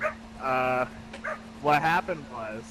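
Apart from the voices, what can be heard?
dog barking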